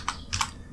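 A few quick, close keystrokes click on a computer keyboard, crisp and distinct, with no talking.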